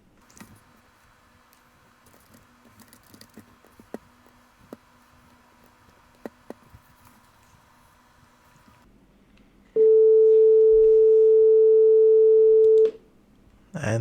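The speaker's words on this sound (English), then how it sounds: "And there's our sine wave." A pure sine wave tone generated with GStreamer on macOS sounds as a single steady, loud electronic beep lasting about three seconds, following a quiet stretch of faint clicks and low noise.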